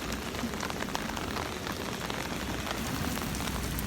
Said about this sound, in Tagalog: Ang lakas po ng ulan kanina pang madaling araw.